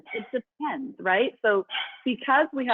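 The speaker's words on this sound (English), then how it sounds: "that's my dog" A dog barks and yips several times in short bursts, clearly audible through and between ongoing speech during a video call about fertility treatment, with a person talking over much of the clip.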